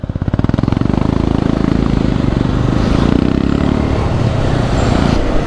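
A Royal Enfield Himalayan 411 motorcycle rides along a road, its single-cylinder engine thumping loudly and steadily up close with rushing wind, no talk over it.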